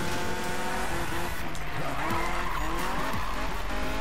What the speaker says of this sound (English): And I can keep the drift going.